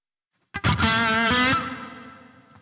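Boss ME-90 guitar multi-effects pedal with spring reverb on, a single distorted guitar chord struck and held about a second, then a reverb tail decaying slowly to quiet.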